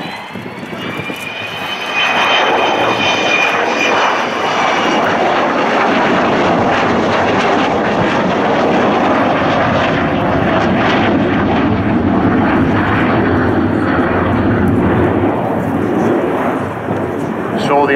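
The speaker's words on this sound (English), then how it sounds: "here she is, coming back in with her wheels down" A large aircraft with its wheels down comes back in to land at the RIAT airshow, a loud, sustained engine roar that builds and holds close by, with a voice talking over it.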